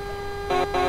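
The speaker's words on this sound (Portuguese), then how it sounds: "Agora tá funcionando a buzina aí" Two short blasts of a truck horn, loud and close, over a steady engine hum.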